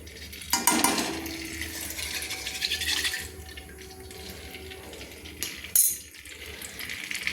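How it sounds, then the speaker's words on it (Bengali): A spoonful of ghee goes into already hot white cooking oil, giving a short liquid pour and splash near the start, then a soft steady sizzle with a brief second burst later. "এই তেলে দিয়ে দিচ্ছি 1 চামচ ঘি।"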